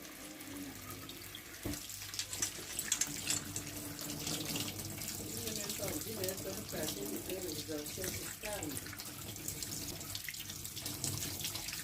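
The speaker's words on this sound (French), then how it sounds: "Je vais les laver, très bien les laver et puis en faire mon petit déjeuner." Ripe, juicy fruit is washed under a running kitchen tap, a steady close stream of splashing water with faint voices in the background.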